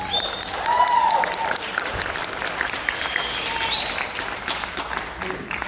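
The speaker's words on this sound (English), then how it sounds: "Round of applause for that." Crowd at a Brazosport High School jazz band winter concert applauding the trumpet and alto sax solos, a steady burst of clapping that swells early then gradually thins, with a few cheers and whistles above it.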